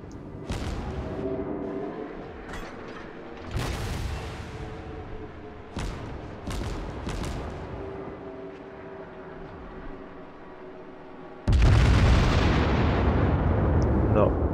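Naval gunfire in a battleship game, heard as several heavy booming shots spaced over the span with rolling low rumble, the loudest blast coming near the end, all under a voice.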